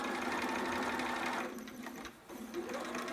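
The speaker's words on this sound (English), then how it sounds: "I'm going to keep sewing to finish up that little other edge so they look the same" A sewing machine runs along the edge of a baby romper, a quick close whirring chatter that dips briefly near the middle before resuming, quiet overall.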